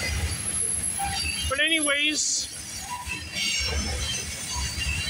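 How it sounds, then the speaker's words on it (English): A freight train rolls past up close with a loud continuous rumble, squealing wheels sweeping high for a second or two midway, while someone talks over it briefly. "after this train goes by"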